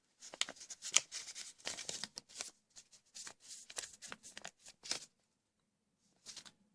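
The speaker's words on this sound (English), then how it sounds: "let's fold it back, open up our cape, and invert that fold" Paper being folded and creased into an origami Batman gives soft, close crinkles and sharp rustling snaps in irregular bursts, with short quiet gaps between them.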